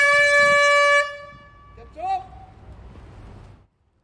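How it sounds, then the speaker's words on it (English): A loud horn blows for a minute of silence in remembrance of the victims of a building collapse: one strong sustained blast, then a shorter, fainter tone, over a low outdoor background murmur. "a horn sounds for a minute of silence in remembrance of those who lost their lives"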